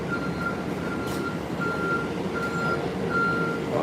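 A Chicago city bus idles loudly while its reversing alarm beeps steadily at a regular pace, with no talk over the engine rumble.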